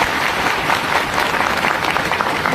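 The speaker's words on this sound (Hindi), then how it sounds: "ताली बजाइए।" An audience in Patna claps together in loud, dense, steady applause that holds at full strength throughout, with no voices breaking through.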